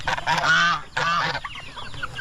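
Two loud, close gobbling honks from a turkey on a farm, one after another, followed by softer clucking calls.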